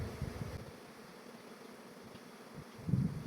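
Honey bees from a 24-frame hive hum in a low, continuous drone close by, with a brief louder swell near the end as bees pass near.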